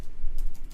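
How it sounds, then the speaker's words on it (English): Rapid keystrokes on a computer keyboard, a close, steady run of clicks with no voices. "when I hit the keys"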